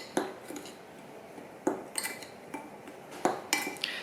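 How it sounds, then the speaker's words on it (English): A spoon scrapes and clinks against a bowl while mixing a crumble of brown sugar, butter, flour and cinnamon for apple crumble. The scattered, sharp knocks come close up, with quiet gaps between them and no talk. "I'm just going to use a spoon just to get that all nicely incorporated."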